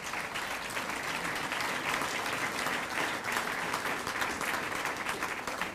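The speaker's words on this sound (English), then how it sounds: "Mississippi always gets a clap." Dense, steady applause from a lunchtime City Club of Chicago audience at a political speech, a continuous wash of many hands clapping at even loudness throughout.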